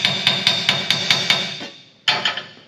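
Rusted car body pieces are hammered straight on an anvil: six sharp metallic strikes in an even rhythm, a brief pause, then two more blows, loud, close and ringing, with no speech.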